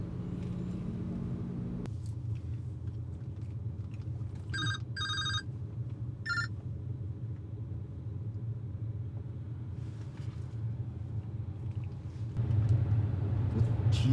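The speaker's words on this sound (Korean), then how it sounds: "뒤에서 나는 소리 같은데" A muffled telephone rings from inside a car's trunk in three brief bursts, sounding enclosed and somewhat distant beneath the constant low road rumble of the driving car.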